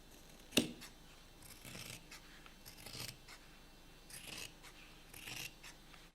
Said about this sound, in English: Trim the raw edge, it's getting a little frayed.